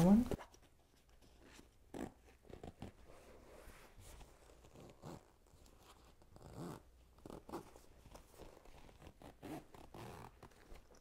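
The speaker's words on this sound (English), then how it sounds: "Zip up the other one." Another zipper compartment on a bag being zipped closed, soft intermittent rasps and fabric rustles heard up close with a quiet, ASMR-style intimacy.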